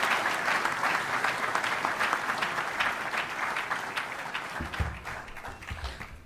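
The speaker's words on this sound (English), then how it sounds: "So give the team a round of applause," Steady applause from a crowd at a Philadelphia mayoral announcement of an arena agreement with the 76ers, honoring the team, sustained and fairly full before gradually thinning toward the end.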